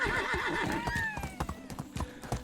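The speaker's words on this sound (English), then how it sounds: "Whoa, don't run into horses." Horses in the Medieval Dynasty video game clip-clop along at a trot, the hooves a close, busy rhythm under a loud, drawn-out neigh that rises and falls.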